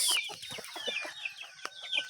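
Chickens in backyard coops cluck in short, irregular bursts at moderate volume, several birds overlapping with no talk.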